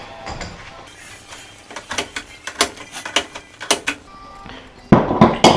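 A 15-inch adjustable wrench tightening a radiator fitting held in a vise with an old t-shirt, giving a run of close, sharp metallic clicks and creaks in uneven bursts, ending in a louder scrape.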